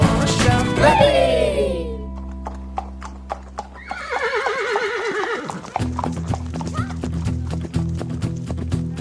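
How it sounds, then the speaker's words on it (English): Horses whinny loudly twice and gallop through open countryside, with quick clip-clop hoofbeats rolling steadily underneath and no talk. "Horses galloping through the countryside"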